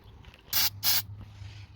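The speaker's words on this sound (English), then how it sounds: "So I'm gonna have to use a carb cleaner" Two short bursts of carb cleaner spray on a very dirty car throttle body, close and loud, each under half a second with a brief gap, over a faint low hum.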